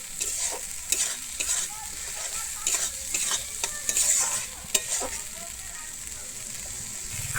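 Mustard fish curry masala with salt being stirred in a pan, a close spoon scraping in uneven strokes over a steady sizzle of frying oil, with occasional sharper knocks against the pan.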